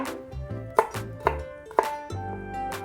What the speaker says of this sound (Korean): 그동안에 당근도 100g, 감자보다는 조금 작게 큐브 모양으로 썰어 주시고 양파 반개 100g도 네모 모양으로 썰어 주시고요.